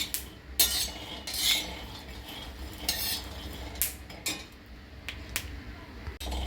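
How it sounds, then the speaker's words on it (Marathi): Peanuts dry-roasted in a pan, with a utensil stirring and scraping them in irregular bursts of rattling and clinking over a faint background, close by. "शेंगदाणे छानपैकी भाजून घ्यायचे करपवायचे पण नाहीत"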